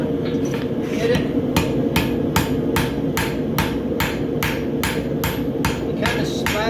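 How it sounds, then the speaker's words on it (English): Steady, evenly spaced hammer blows ring out on a hot horseshoe fresh from the forge, about a dozen sharp metallic strikes in a regular rhythm over a continuous low roar of the forge. "we'll get in the forge, grab one, bring it out, hit it."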